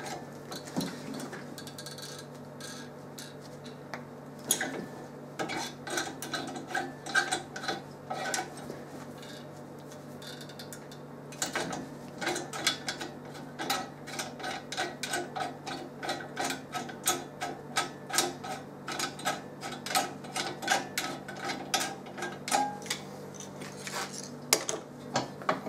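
Installing 2mm threaded inserts into an accessory bar for a milling machine, a long run of close metallic ratcheting clicks and small tool rattles in an uneven rhythm, with a faint steady hum beneath.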